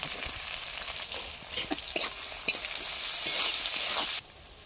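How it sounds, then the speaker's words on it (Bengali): Onions frying in a home kitchen pan, part of a whole chicken curry being cooked, give a steady bright sizzle with a few sharp stirring clicks, close and fairly loud, cutting off abruptly near the end. "মা এখানে আমাকে পেঁয়াজ ভাজাটা করতে দিয়ে গেল"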